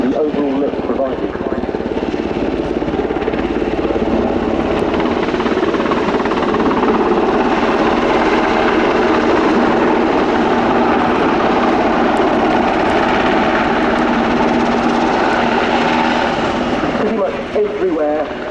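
A Swedish Air Force Sikorsky Hkp16 Black Hawk helicopter flies a display at the RIAT 2025 air show, its loud, steady rotor and turbine roar filling the whole stretch while a commentator talks over it.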